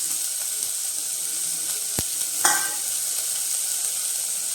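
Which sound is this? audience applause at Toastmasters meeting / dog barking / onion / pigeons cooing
onion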